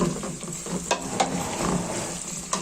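Chicken for white pulao fries in a pot while being stirred, a continuous close sizzle broken by sharp scraping and clacking strokes of the spoon at irregular intervals.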